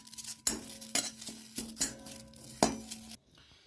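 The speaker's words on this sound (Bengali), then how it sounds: "আমি নিম পাতাগুলো শুকনো কড়াতেই নাড়বো" Washed neem leaves are stirred in a dry karai with a metal spatula, giving close, irregular scraping clinks and rustles of utensil against pan, several distinct strokes in quick succession, then a sudden stop.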